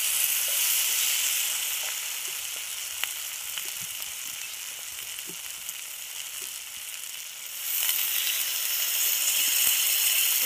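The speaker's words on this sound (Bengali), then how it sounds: "এবার আমি দিয়ে দেবো জল।" Water splashes into a pan of simmering chicken scraps and soybean curry, raising a loud, steady sizzling hiss that swells again near the end, with no one talking.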